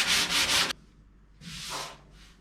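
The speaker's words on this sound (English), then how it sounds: "Anyway, carry on sanding." Sandpaper rubs across a car firewall in a quick burst of back-and-forth strokes. After a pause come a few softer, scratchier passes, close and clear with no talk.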